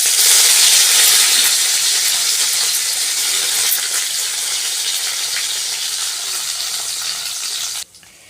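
Green chilies, curry leaves and coriander dropped into hot oil for tempering, a loud steady close-up sizzle and hiss that eases slightly over several seconds before cutting off abruptly.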